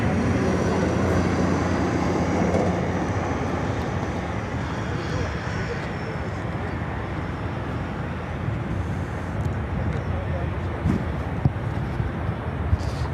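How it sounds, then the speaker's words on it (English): An Emirates airliner taxiing toward the international gates at Chicago O'Hare, heard as a steady, broad jet engine roar that holds level throughout. "Emirates heading to the international gates."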